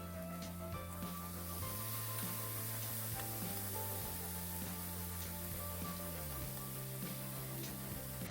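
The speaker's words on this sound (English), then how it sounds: "Now we can carry on with the venison steak, so I'm going to give them a quick sear on each side" Venison steaks sear on a hot surface over coals, giving a steady, close sizzle and hiss that runs the whole time, with a low hum underneath and no talking.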